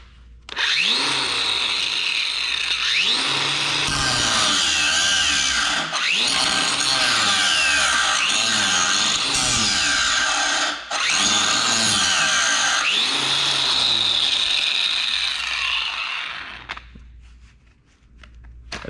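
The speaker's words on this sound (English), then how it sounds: "This is the old angle grinder." An old angle grinder with a 4.5-inch type 27 grinding stone grinds loudly and continuously, its whine rising and dipping under load over nearly twenty seconds, then winding down near the end.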